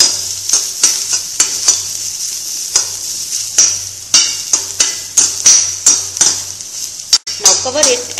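Cauliflower with green chili and mustard seed cooking in a pan, a constant sizzle under repeated sharp clinks and scrapes of a utensil stirring against the metal, close and loud.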